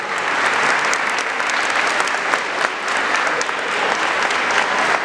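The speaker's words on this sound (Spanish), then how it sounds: "Un aplauso para ellos." Sustained, lively applause from parents and grandparents at a kindergarten graduation, a dense crowd of clapping hands that holds steady for the whole stretch with no talk over it.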